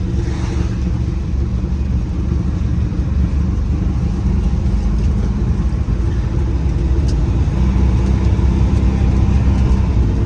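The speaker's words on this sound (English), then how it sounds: "I'm not totally sure why it's revving so high, but then not going any place." A 1967 Chrysler 300 engine revs high and steady from inside the car while driving, the transmission or clutch seemingly slipping, a loud continuous low drone with no talking.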